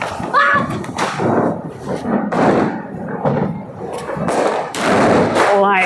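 Marshal firecrackers burst during Diwali celebrations, giving a few sharp, loud thuds and cracks spread across the stretch, mixed with people talking nearby.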